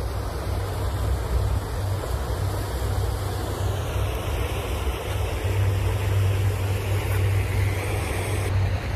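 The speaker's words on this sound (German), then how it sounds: "Guckt mal die Wellen an." Wake waves from small passing boats wash along a river bank in a steady, rushing surge, mixed with gusty wind noise on the microphone and no talking.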